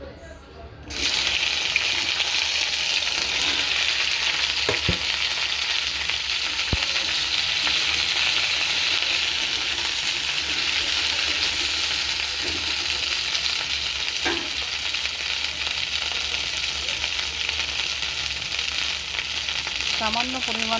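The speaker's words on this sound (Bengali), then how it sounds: "কড়াই গরম হয়ে এসছে, এবার আমি ঢ্যাঁড়সগুলো দিয়ে দেবো।" Okra hits mustard oil in a hot wok and sizzles loudly and continuously, with occasional stirring clicks from a utensil throughout.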